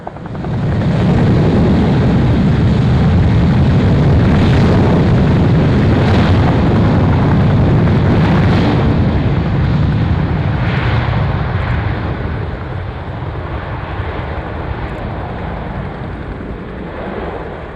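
A Navy jet roars loudly down the runway on its takeoff roll at an airshow, a broad sustained engine rumble that holds strong for about ten seconds before slowly easing as it climbs away.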